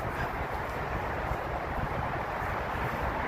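Steady roaring wind buffets the microphone throughout on an outdoor bush walk, a dense low rumble with no pauses and no voices.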